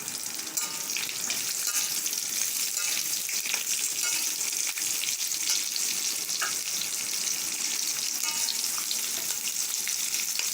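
Long-sliced onions frying in a pan for a vegetable masala, a dense, even sizzle held close and loud for the whole stretch, with occasional light stirring scrapes.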